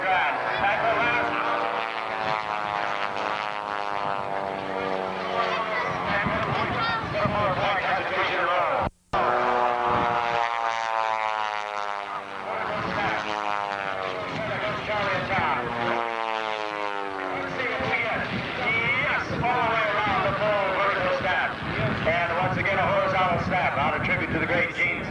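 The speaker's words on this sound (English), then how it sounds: "Watch as they bring the aircraft very low to the ground." Aircraft flying very low over the ground at the 1991 Cleveland air show, a loud roaring drone with sweeping pitch changes as the planes pass close by, heard under continuous loudspeaker commentary.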